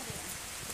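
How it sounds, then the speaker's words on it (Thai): Rain falls over an open field in a short, faint patch of steady broadband hiss, with no voices. "บรรยากาศดีมากเลยฝนตก"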